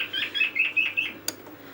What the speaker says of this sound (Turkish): Bu arada yavru kekliğimiz kekik de sizlere selam veriyor herhalde. Çok güzel ötüyor mübarek.